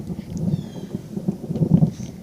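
Low, rumbling thunder from a lightning strike rolls in irregular bursts during an outdoor thunderstorm, with faint rain and wind behind it.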